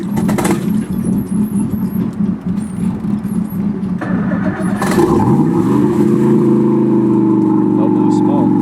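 Twin carbureted inboard engines on a 1988 Bayliner Avanti 3450 boat: one motor already runs while the second cranks and catches at about five seconds, settling into a loud, steady rumbling idle as people talk nearby.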